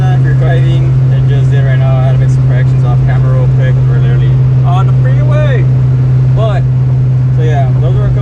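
A car cruising on a freeway makes a steady, close engine and road drone with a strong low hum, while someone talks throughout over it.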